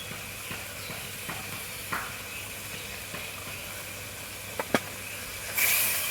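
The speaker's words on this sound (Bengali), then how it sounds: "এবার ভালো করে কষিয়ে নেব।" A spice paste of cumin, coriander, Kashmiri chilli powder, turmeric and salt sautéing in a pan, a soft low sizzle with sparse scraping strokes and a brief louder hiss near the end.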